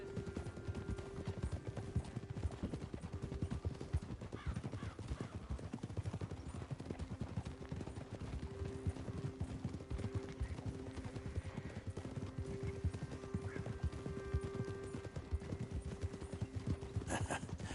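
Steady hoofbeats of a horse in Red Dead Redemption 2 clip-clop throughout, a continuous walking rhythm of hooves with faint ambient tones behind and no talking.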